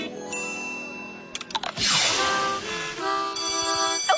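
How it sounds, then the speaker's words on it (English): A school bell rings loud and clear in a cartoon school hallway, a bright metallic ding with a long ringing tail, with lighter chimes sounding before it. "Oh, there's the bell."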